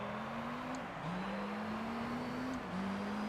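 Engine of the Vertigo, a Belgian 700-horsepower race car in the Gran Turismo 3 video game, a steady loud drone rising in pitch through two gear changes, each marked by a brief dip before climbing again, with no talking.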